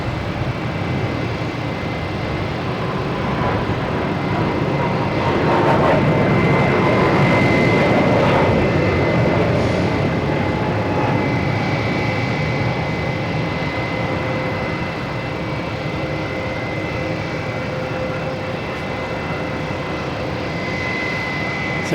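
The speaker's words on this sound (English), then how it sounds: "So Aer Lingus going right in front of me here" An Aer Lingus airliner passes close by at Boston Logan Airport. Its loud jet engine roar builds to a peak midway, then eases off and holds steady.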